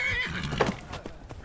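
Horse neighing in the video game Skyrim: a loud, shrill whinny that trembles and falls over about a second, followed by a few softer snorting breaths and hoof sounds.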